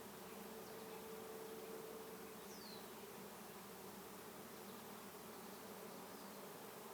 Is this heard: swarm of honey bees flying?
yes